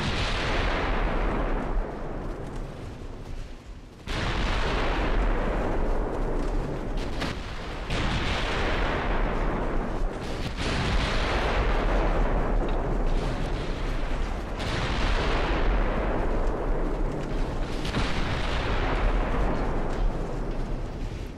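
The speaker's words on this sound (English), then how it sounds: "Of course, we get an ammo detonation because we took a torpedo." Heavy naval battle in Ultimate Admiral Dreadnoughts, with an ammunition detonation after a torpedo hit: a string of loud, booming blasts roughly every three seconds, each one a thunderous crack trailing off into a rumbling decay, continuous and dense throughout.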